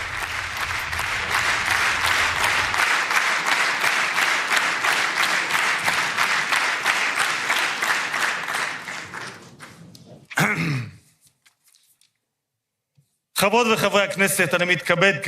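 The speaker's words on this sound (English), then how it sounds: "you now hear the applause in the hall" Sustained applause fills the Knesset hall in a long, dense wash of many hands clapping. It fades out around ten seconds, with brief shuffling noise and a short silence after it, then people begin talking.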